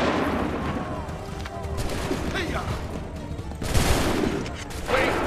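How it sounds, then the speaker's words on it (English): Muskets fire in volleys in the historical action game Assassin's Creed 3, a dense crackling fusillade with two heavy bursts standing out over continuous battle noise and shouted commands. "Open fire. Hold fire! Make ready! Fire!"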